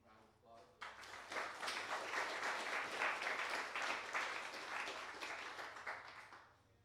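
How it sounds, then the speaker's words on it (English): Audience applause after a talk on managing soils and water rises abruptly into sustained, dense clapping, holds steady for several seconds, then fades out. "Give Jim Hershey a round of applause."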